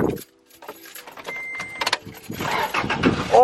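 Keys jangle briefly before a used truck's engine cranks and catches, then settles into a rough rumbling idle that builds louder toward the end of the short moment.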